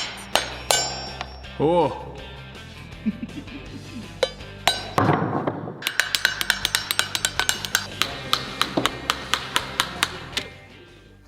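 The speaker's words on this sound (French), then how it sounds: "La prochaine étape consiste à nettoyer notre noix de la coquille." Coconuts have their hard shells knocked and pried away with tools, making sharp clinks and knocks, a brief scraping stretch, then a fast run of ringing taps, with one short exclamation.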